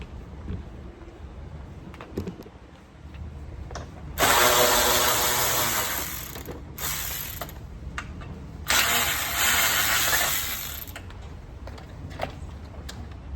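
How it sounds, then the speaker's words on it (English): Ratchet wrench undoing the bolts that hold the grille on an INEOS vehicle, heard as two bursts of rapid clicking, the first lasting about three seconds and the second about two, over quieter workshop background. "we're going to undo these bolts that were hidden by that light bezel"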